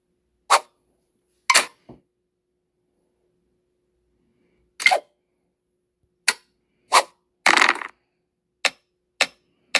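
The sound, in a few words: distant fireworks banging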